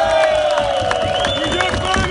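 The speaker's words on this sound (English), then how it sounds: "give them a round of applause" Crowd at a union rally cheering and clapping, a dense roar of voices with whoops and scattered applause, loud and close throughout the brief burst.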